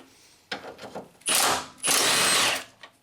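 Two loud bursts of an impact or power tool spinning off engine mount bolts on a 2007 Nissan Altima, each lasting about half a second, preceded by softer clanks and handling noises of tools against metal.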